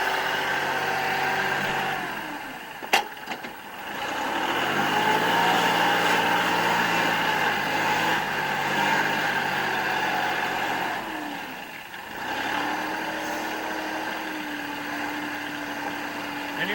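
A tractor engine runs outdoors in bitter cold and wind, idling with a steady hum and rising into a few louder revving stretches, fairly close throughout.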